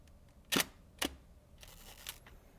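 A Hasselblad 500C/M medium-format camera is wound, giving two sharp, close mechanical clicks followed by a softer ratcheting sound as the shutter opens, in a quiet room.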